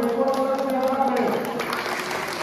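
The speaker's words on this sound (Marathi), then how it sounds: "त्यांच्यासाठी जोरात टाळ्या वाजवा." Steady crowd clapping from an audience at a village assembly meeting, a continuous patter of hands under a voice speaking over it.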